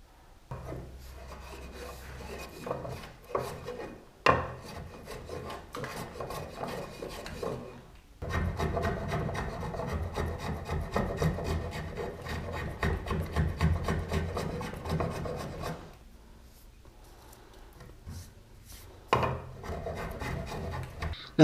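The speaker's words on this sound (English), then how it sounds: "used my block plane to adjust it where needed" A block plane is pushed over walnut to trim a shelf, giving close, raspy shaving strokes in bursts separated by short pauses, fairly quiet, with no talk.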